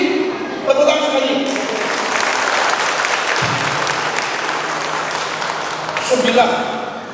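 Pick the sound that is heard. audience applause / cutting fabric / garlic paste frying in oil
audience applause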